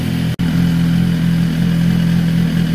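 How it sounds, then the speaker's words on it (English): A 2018 Suzuki GSX-R1000 sport bike engine idles steadily up close, its mechanical tone held fairly even with a short cut near the start, and no talking over it. "I'm gonna go ahead and rev it up a little bit and see how I like the throttle play."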